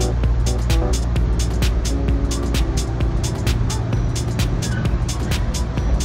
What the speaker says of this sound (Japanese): さあ新山口駅を発車だね。